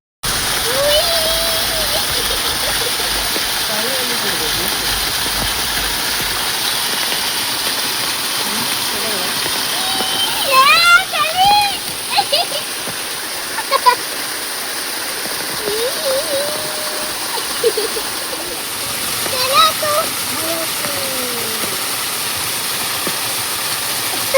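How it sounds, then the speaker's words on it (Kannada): Steady heavy rain hisses throughout, with occasional louder splashes and a few faint bird calls in the distance. "ಜೋರು ಮಳೆ ನೋಡಿ."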